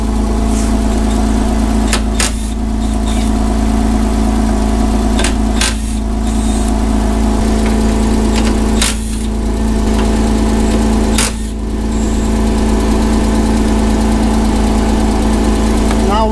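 A Porsche Boxster engine idles steadily up close, a loud constant low hum with a few sharp metallic clicks from tools against it.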